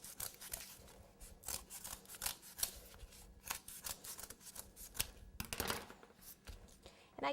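Knife or scissors trimming the edge of a cake board at the base of a trophy-shaped cake: a run of close, quiet scraping and snipping cuts in an uneven rhythm, no talking.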